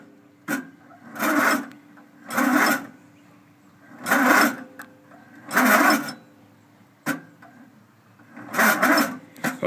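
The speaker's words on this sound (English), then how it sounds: "Then we'll jump on and see if she'll crank" Murray mudder engine cranking repeatedly without starting, six or so rhythmic rasping bursts about a second apart, each separated by short pauses, close and fairly loud.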